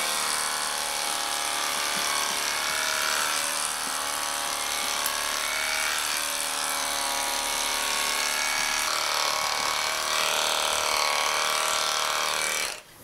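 A lawn mower runs steadily and loudly for the whole stretch, its motor drone holding an even pitch before cutting off abruptly at the very end.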